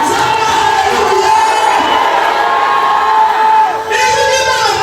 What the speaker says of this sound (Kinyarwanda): Zamura haleluya.